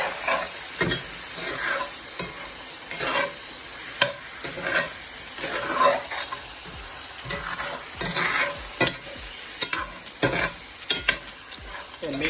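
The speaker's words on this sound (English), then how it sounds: "I'm gonna stir it up." Jamaican curry goat sizzling in a pot as it is stirred, with steady frying crackle and repeated sharp scrapes of the spoon against the pot, close and without talk.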